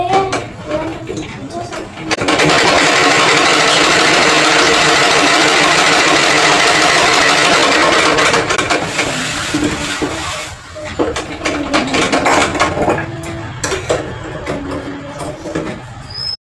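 A sewing machine stitches the neck strip of a school uniform with thick stitches, a close, continuous mechanical whirr in long runs with short pauses, and a voice talks over it.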